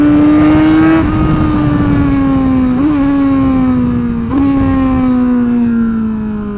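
A loud motorcycle engine revs close by, its pitch rising and falling through several throttle blips over a steady, droning idle, with no talking.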